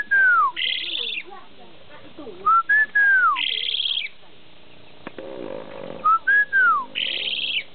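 A whistling bird trades calls with a person's whistling, repeated rising-and-falling whistles answered by higher sustained notes in an alternating rhythm, close and loud outdoors, with brief faint speech in the background.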